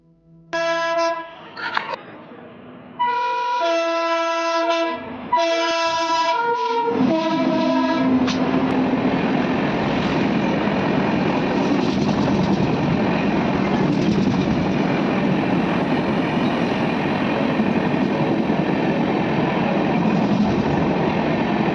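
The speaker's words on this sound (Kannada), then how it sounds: "ಹಾಗೆ ಈ ಟ್ರ್ಯಾಕ್ ಅಲ್ಲಿ ಟ್ರೈನ್ ಬರೋ ಮೂಮೆಂಟ್ ಕೂಡ ಈಗ ಸದ್ಯಕ್ಕೆ ಕ್ಯಾಪ್ಚರ್ ಮಾಡ್ತೀನಿ." A train arriving at a hidden railway station near Mysore sounds a few loud horn blasts. A steady, heavy rumble of wheels and carriages then builds and fills the rest of the clip.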